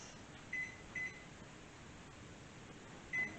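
Microwave oven keypad beeps while a 5-minute cooking timer is set for a strawberry cheesecake recipe: three short electronic beeps, two close together early and one a couple of seconds later, over faint kitchen room hum.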